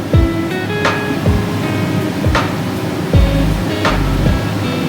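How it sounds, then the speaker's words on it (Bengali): Water poured into a simmering pan of prawn malai, giving a steady rushing, bubbling wash with a few heavier swells and soft knocks, close and fairly loud. "আচ্ছা, আমি আরেকটু জল দিলাম।"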